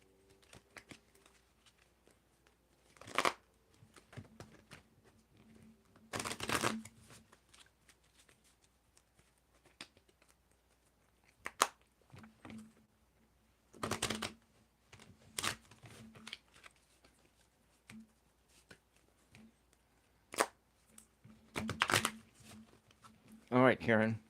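Tarot cards shuffled by hand in scattered bursts, some brief and some longer riffles, fairly quiet and close against a near-silent background.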